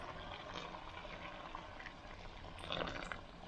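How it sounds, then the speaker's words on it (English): Kettle-boiled water is poured into a pot over chicken, a soft steady splashing pour that swells slightly near the end, fairly quiet with no voices. "I'm gonna add the water. I went ahead and boiled the water in the kettle."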